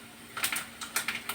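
Mustard seeds pop in hot oil with a series of sharp, light crackles in quick irregular clusters, quiet and close, with no speech.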